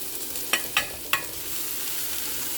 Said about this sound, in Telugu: ముక్కలు నీరింకేలాగా వేగిపోయినాయండి